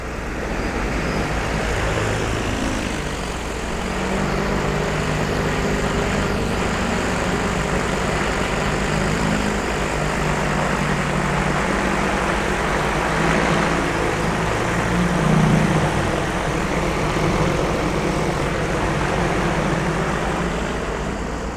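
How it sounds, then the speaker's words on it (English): A DJI T40 agricultural spraying drone, applying a calcium product over a potato field, takes off and passes about 12 to 20 feet overhead; its loud, steady rotor roar and whine hold constant, swelling slightly as it nears. "Crazy to see something the size of a quad flying through the sky like that, just 12 or 20 feet overhead"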